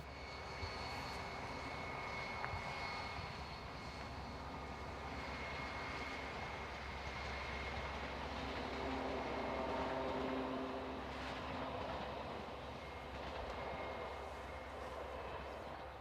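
Class 67 diesel locomotive hauling a French passenger train from Lille, passing with a steady, loud engine roar and rail rumble throughout, swelling slightly around the middle, with no voices.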